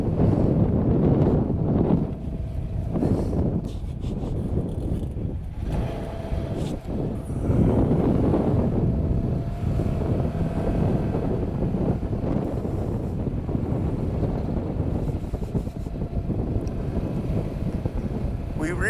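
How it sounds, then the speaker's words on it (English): Strong wind gusts across the microphone outdoors on a trail, a loud continuous rumbling buffet that swells and eases in waves for the whole stretch with no other clear sounds. "It's windy out, didn't even realize it."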